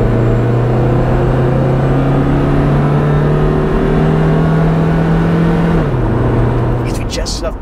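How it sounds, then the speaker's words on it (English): A 1996 Toyota Previa minivan with a supercharged engine at full throttle gives a loud, rising drone and whine that climbs steadily, dips at a gear change, then carries on with interior road noise. "It's not until over half throttle we begin to hear that whine of the supercharger."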